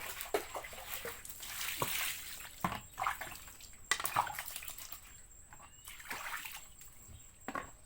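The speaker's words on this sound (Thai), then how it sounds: "เดี๋ยวขอล้างมือคู่ครับ" Hands washed with water outdoors at a backyard garden, close splashing and sloshing with dribbling bursts and brief pauses, no voices.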